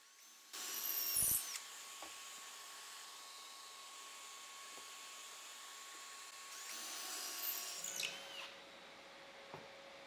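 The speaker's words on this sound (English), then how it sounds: "I'll use the armor tool auto jig to drill three evenly spaced holes on the insides of the apron." Power drill boring pocket holes in a wooden table apron with an Armor Tool auto jig, two sustained whirring bursts, the first short and the second longer, with quiet workshop hum in between.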